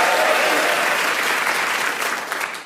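Studio audience at the comedy science show It Is Rocket Science applauds to welcome host Helen Keane: loud, dense clapping from a full room, steady throughout and tapering off at the end.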